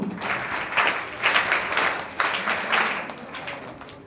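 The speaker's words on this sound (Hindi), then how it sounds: "दोनों भाइयों के लिए बड़ी ताली गुरु" An audience at an annual exam results announcement applauds loudly and steadily for two brothers, dense clapping with a few rhythmic swells and no talk.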